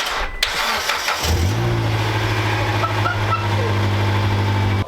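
A worn beater car's engine cranks briefly, then catches and settles into a steady, loud idle hum.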